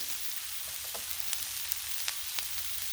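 Vegetables sizzle steadily on a hot Blackstone griddle. A constant frying hiss is broken by small crackles and pops, with no talking.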